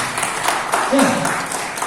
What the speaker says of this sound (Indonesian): Sekali lagi berikan tepuk tangan tulus pada upline-upline.